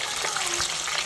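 Hotdogs sizzle and fry in a pan, a close, steady hiss with a few faint pops and no voices.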